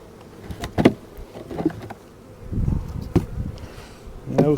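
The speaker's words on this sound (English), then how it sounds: "I love to see that, especially on some calm bees like these are." Calm honey bees buzz steadily in an open hive, a close, continuous drone that swells in several louder bursts as individual bees pass near.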